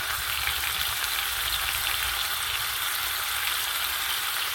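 Turmeric, coriander and cumin powder fry in hot oil with a steady, dense sizzle that holds at an even level throughout, close up and with no voices.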